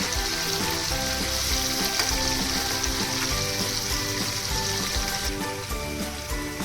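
Mackerel fish fry in a pan, making a loud, dense, continuous sizzle and crackle that holds steady from start to finish, with no voices.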